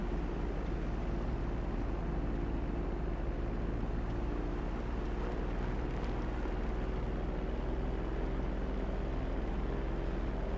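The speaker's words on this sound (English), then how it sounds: "Just want to taxi out to the runway." A Cuban 800 twin-engine propeller plane taxis in GTA V, its engines holding a steady, loud droning hum with layered low tones throughout, and no other sounds.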